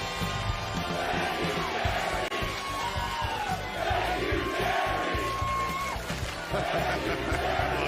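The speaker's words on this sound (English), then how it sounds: "Check out the awesome chant from Lambeau last night where Packer fan was thanking Jerry Jones for Micah Parsons." Football crowd at Lambeau Field, home of the Green Bay Packers, in a loud rhythmic stadium chant thanking Jerry Jones, a dense roar of voices holding steady throughout with rising and falling shouted phrases.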